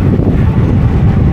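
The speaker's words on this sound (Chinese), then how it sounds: "好大风啊！" Strong wind buffets the microphone during a long-distance road bike ride along Malaysia's east coast, a steady low rumble filling the whole stretch with no talking.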